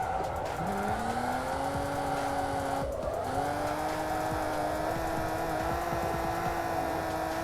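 A car drifting in the racing game Assetto Corsa, its engine holding a steady high whine with tire squeal through a slide, a brief dip midway, then climbing again, loud and continuous with no talking.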